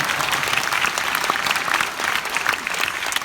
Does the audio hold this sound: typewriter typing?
no